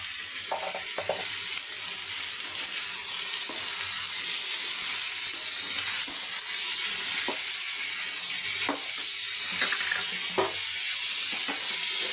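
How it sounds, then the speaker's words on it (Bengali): Potatoes seasoned with salt, chilli powder and turmeric fry on high flame in a pan for crispy aloo bhaja, a steady close sizzle with occasional stirring scrapes throughout and no talking. "এইভাবে এক মিনিট ভেজে দেব গ্যাসটা হাই ফ্লেমে করে"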